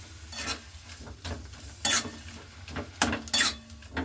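Vegetables with a little sugar are stirred in a sizzling pan, the spoon scraping and clinking against the metal in irregular strokes over a steady soft frying hiss.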